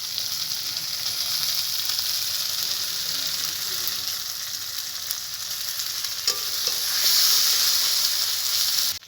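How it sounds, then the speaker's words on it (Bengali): Fried rui fish pieces go into hot spiced masala in a pan, giving a loud, steady close-up sizzle and hiss that swells near the end, with no voices. "এবার ভেজে রাখা মাছটা আমি দিয়ে দেবো।"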